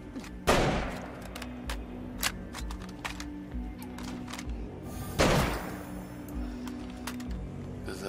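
Gunfire in the zombie survival game State of Decay 2, two loud sharp shots several seconds apart standing out over a busy, muffled game soundscape.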